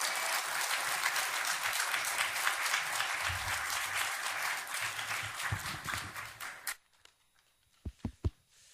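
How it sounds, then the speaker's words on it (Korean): A church congregation at an evangelism festival applauds the pastor, a full steady round of clapping that stops abruptly, followed by a few isolated knocks and thumps in the quiet. "큰 박수 부탁드립니다"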